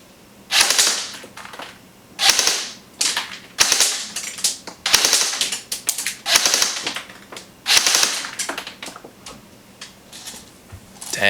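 A KWA KM4 RIS airsoft electric gun fires .2 gram rounds in sharp, close, clacking bursts, several short strings of rapid shots separated by brief pauses, with no talking.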